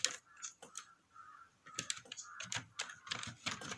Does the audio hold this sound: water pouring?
no